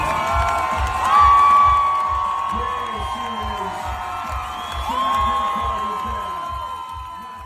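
A crowd cheers, whoops and screams at an Ironman triathlon finish line, a sustained loud roar with swelling peaks under a rhythmic thumping beat and a public-address voice.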